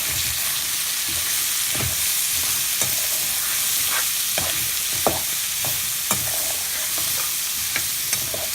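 Cauliflower fries in a pan over medium heat and is stirred with salt, a loud, continuous sizzle punctuated by repeated scraping strokes of the spatula.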